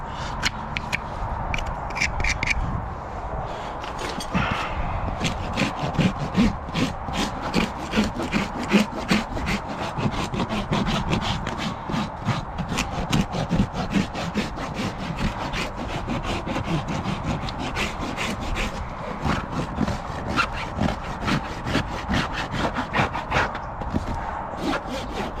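A farrier trimming the bars of a barefoot Friesian horse's hoof, a close, steady rhythm of rasping and scraping strokes that keeps going without pause, with no voice over it.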